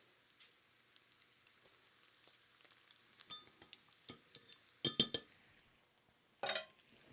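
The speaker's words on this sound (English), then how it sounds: "Let's clean off both of the spoons." Two spoons clink against a pot rim and each other while being cleaned off, light scattered taps that build to a few sharper metallic strikes, close and fairly quiet in a home kitchen.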